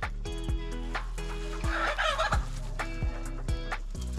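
Golden pheasant hen, close by and handled, giving a run of repeated short clucking and gobbling calls in a steady rhythm with no talk over them.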